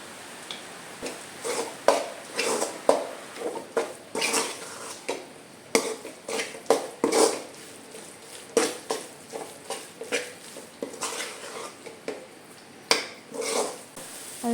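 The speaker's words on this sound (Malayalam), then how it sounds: "ഇളക്കി യോജിപ്പിക്കാം." Egg roast masala being stirred in a pan with chilli powder and ground spice mix, giving repeated scraping, clinking strokes in an irregular rhythm alongside a low sizzle, close and fairly loud, with no talk.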